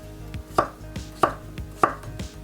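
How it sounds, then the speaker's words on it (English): A knife slicing through potatoes on a cutting board, three sharp, evenly spaced chops about half a second apart with quieter knocks between, close and clear with no talking. "Now let's slice them and have them ready to be boiled."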